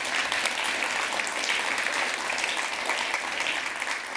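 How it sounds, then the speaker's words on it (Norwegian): A seated audience at a book and film launch party claps in steady, even applause, heard from a little distance and holding at a constant level. "skal vi gi han en applaus?"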